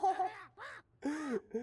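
A bird in the point-and-click game Deponia caws three or four harsh times in quick succession, close and clear, with brief gaps between calls.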